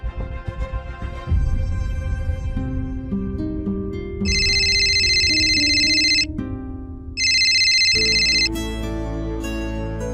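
An electronic phone ringtone plays loud and close on an outgoing call, a musical melody broken by two long, bright ringing bursts, with no talking.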